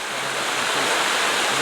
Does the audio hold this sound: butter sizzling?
no